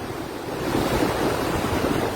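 A brief, steady roar of strong floodwater current spilling over La Mesa Dam, broad and rushing, swelling slightly midway, with wind buffeting the microphone.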